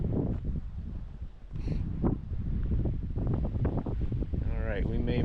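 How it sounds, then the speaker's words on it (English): Wind gusts beside a river, buffeting and rumbling across the microphone in an uneven, continuous roar, with brief voice-like sounds near the end. "Now I got wind blowing downstream,"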